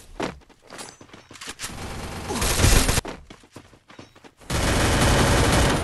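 Gunfire in a competitive shooter game: close, loud bursts of rapid automatic fire and single shots, broken by short pauses and ending in a sustained volley.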